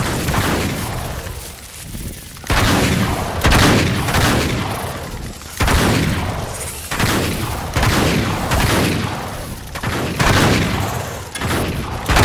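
Sustained heavy gunfire during a firefight in Uncharted 3: Drake's Deception, loud repeated volleys and bursts rolling continuously with brief lulls, some booming impacts mixed in.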